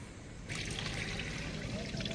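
Water trickles through the cooling pads of a Priya God ST22 air cooler, a soft, steady wash that grows fuller as the flow starts, with a faint hum beneath.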